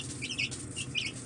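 Young Araucana chicks peck at rapeseed flower petals, giving soft, close cheeping and chirps in short bursts over light rustling.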